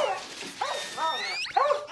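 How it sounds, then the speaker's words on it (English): A dog whimpers and squeaks in a movie scene, giving a run of short, high, close whines and yelps over about two seconds. "you never heard a dog squeak before?"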